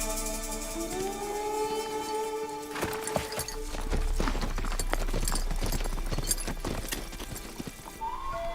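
Horses' hooves clip-clop in a rapid uneven patter on open ground in wild African country, close and steady, accompanied by sustained whistle-like tonal sounds and occasional whinnies.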